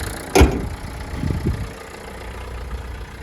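The engine of a 2018 Renault Kangoo van idles steadily and evenly with a low hum, broken by a sharp thump early on and a couple of brief knocks a second later.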